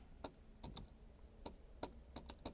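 Keys tapped on a computer keyboard in short irregular bursts, a cluster of crisp clicks then a pause, then another run of quick clicks, close and moderately quiet with no voices.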